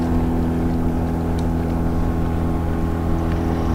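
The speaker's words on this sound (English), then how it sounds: "It's a second motorboat I've seen." A motorboat runs on a lake, its engine a steady, fairly loud drone that holds without a break.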